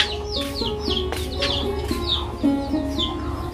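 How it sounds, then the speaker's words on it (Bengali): Hens and chicks coming into a tin-roofed house, with rapid clucking and high chick peeping close by, overlapping calls throughout with no talking. "এই যে আমার মুরগির বাচ্চা, মুরগি সবাই ঘরে ঢুকতেছে আসতেছে"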